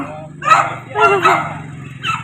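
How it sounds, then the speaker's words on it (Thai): A dog gives a few close, hoarse, yelping barks in quick succession over a low steady hum. "ดูดูเห่าจนเสียงแหบ"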